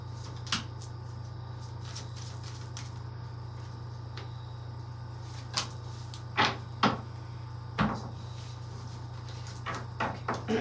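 Tarot cards are shuffled and pulled in soft, scattered taps and flicks, a few louder snaps near the end, over a steady low hum in a quiet room without talking.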